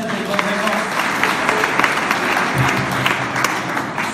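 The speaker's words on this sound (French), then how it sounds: "Très très bien, on applaudit." An audience applauds continuously at a religious talk, a loud, even wash of clapping that holds steady throughout, with a voice faintly mixed in.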